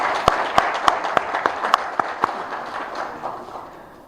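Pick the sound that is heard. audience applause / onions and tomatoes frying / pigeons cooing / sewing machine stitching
audience applause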